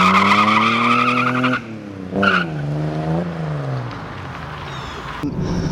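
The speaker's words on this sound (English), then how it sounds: "it spun the tires all the way through first and chirped them in second" An MK2 Supra launches hard, its engine revving high as the tires spin and squeal through first gear, then a brief chirp on the shift into second, loud and close.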